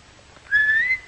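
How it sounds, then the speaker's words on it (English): A person whistles aboard an orbit jet spaceship in a 1954 space-ranger series, a single rising tonal whistle that starts about halfway through and holds clear and close over a quiet background. "Go ahead, Bobby. Whistle if you want"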